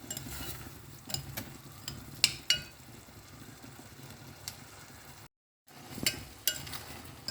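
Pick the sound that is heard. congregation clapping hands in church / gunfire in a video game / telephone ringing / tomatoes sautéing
tomatoes sautéing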